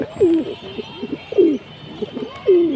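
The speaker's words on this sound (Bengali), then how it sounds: "আর মাদিটা যেটা ওর ডাকটা দেখানোর জন্য দিছি" A female pigeon at a pigeon market coos in a few short, throaty calls, close and moderately loud, with quiet background noise between them.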